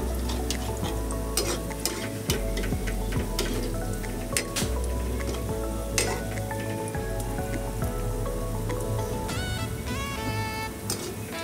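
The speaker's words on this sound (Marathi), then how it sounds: "चांगले होऊन दे तेलात, मस्त लागतात." Onion bhaji, the Maharashtrian kanda bhaji or crispy onion pakoda, frying in hot oil. A steady, dense sizzle with crackling pops runs loud and close throughout, and nobody speaks.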